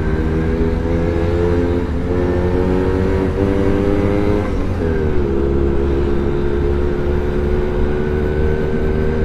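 Suzuki RC100 Bravo motorcycle ridden briskly without a front brake, its small two-stroke engine droning loud and steady with harmonic pitch shifts as throttle changes, a brief dip and recovery midway.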